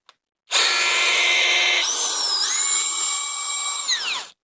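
Masaru SCDI-105 cordless impact drill/driver running for about four seconds: a steady, loud, close whine that steps up in pitch partway through, then winds down and stops.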